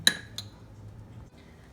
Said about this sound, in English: I heated my chocolate up for 30 seconds and I'm going to be mixing it